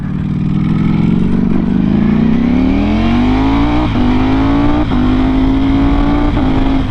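A Ducati Panigale V4R motorcycle with an Akrapovic exhaust accelerates hard, a loud, continuous engine roar climbing in pitch through several quick-shifted gears with short breaks at each shift, close and without talk.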